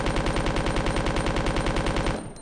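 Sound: machine gun firing in video game Resident Evil 2

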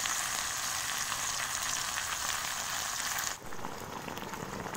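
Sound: beans frying in pan

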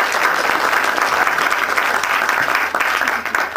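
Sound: applause

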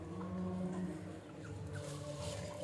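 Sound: country chickens clucking

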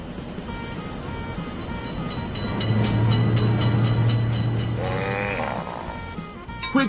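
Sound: train passing in the video game Railroad Crossing

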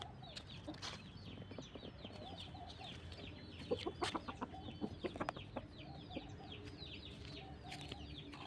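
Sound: hen clucking

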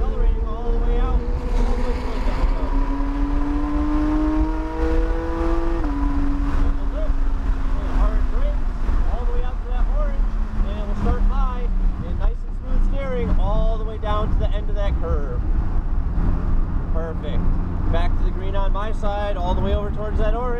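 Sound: Porsche 911 GT3 RS engine accelerating on a race track

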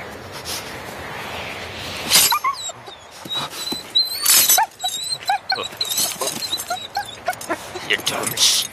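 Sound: dog whimpering and barking

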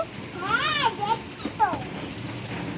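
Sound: heavy rain

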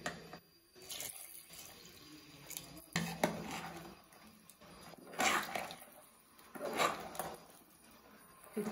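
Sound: pouring water into mutton curry

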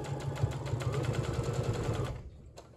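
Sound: sewing machine sewing a straight stitch on fabric

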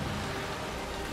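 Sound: rain in video game A Plague Tale: Requiem

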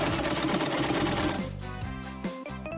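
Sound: sewing machine stitching a plastic seashell shape

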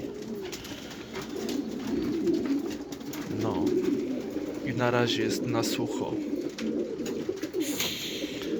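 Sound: pigeons cooing

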